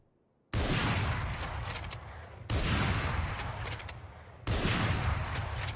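Three heavy Operator sniper rifle shots in the game Valorant, each a loud sudden boom followed by a long rumbling decay, spaced about two seconds apart.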